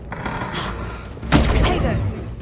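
The Bombarda blasting spell in the Hogwarts Legacy video game, a sudden loud explosive whoosh and thud about halfway through, over ongoing game sound with spoken voices nearby.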